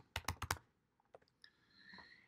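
A quick burst of four crisp keystrokes on a computer keyboard, followed by a few fainter scattered clicks in an otherwise quiet room.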